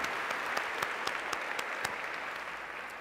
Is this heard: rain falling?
no